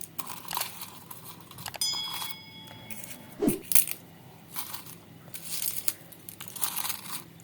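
Dry bay leaves crumpled and crushed by hand into an emptied incense burner, with close crinkling and crunching, a few sharp clinks and taps, all fairly quiet with no talking.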